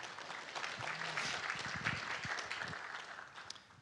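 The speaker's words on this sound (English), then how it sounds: "I didn't mean to interrupt the clapping" Steady applause from an audience fills the clip, a dense wash of clapping at even loudness that fades slightly toward the end.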